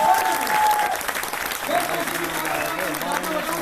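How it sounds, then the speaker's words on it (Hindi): An audience in a Hindi-language network marketing seminar breaks into loud, sustained clapping, dense and steady throughout, with voices and a brief whistle-like tone over it. "जोरदार तालियां बजा दीजिए अपने लिए"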